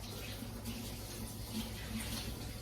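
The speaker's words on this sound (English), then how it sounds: "let me wash my hands real quick" Tap water running steadily into a sink during handwashing in a home kitchen, a soft continuous rushing splash heard faintly and up close.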